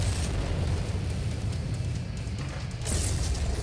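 Explosion in the mech combat game MechWarrior 5, a sustained low rumbling blast with a heavy boom floor, followed by a brighter burst of crackle near the end; no speech.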